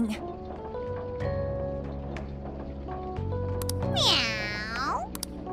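A cat meows in the Persona 5 Strikers video game, a high bright cry among game music and sound effects, with voices talking over the scene.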